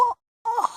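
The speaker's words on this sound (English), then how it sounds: "Then I noticed sounds like groaning coming out of my own throat." A character in the visual novel Steins;Gate groans from the throat: two short moaning vocal bursts separated by a brief silence, close and fairly loud.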